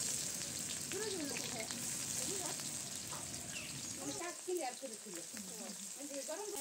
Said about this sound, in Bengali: পেঁয়াজগুলো আমি সরিষার তেলেই ভেজে নিব।